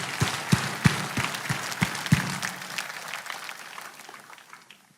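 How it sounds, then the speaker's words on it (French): Applause from a church congregation, thick crowd clapping with a few loud, close hand claps at the start, then gradually thinning and dying away. "Applaudissez pour vous-même."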